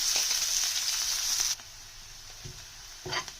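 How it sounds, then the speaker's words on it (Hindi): Onions frying in oil over a slow flame for sandwich stuffing give a steady bright sizzle that drops away suddenly midway, leaving faint quiet clicks and a brief stir of movement near the end. "ये पहले मैंने ऑयल में प्याज स्लो फ्लेम पे फ्राई करूंगी"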